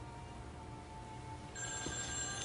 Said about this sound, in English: All right, Russell, go answer the phone